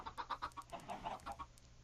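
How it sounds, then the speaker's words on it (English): Many Minecraft chickens cluck in a crowded pen, a quiet rhythmic string of short clucks repeating steadily with no talking. "That's a lot of chickens in there."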